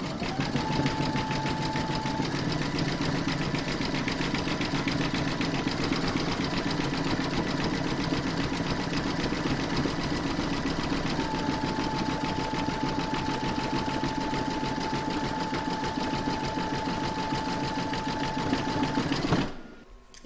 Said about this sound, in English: pop your hoop back into your machine and stitch round number 7, and that's going to zigzag along this join here to join the two parts.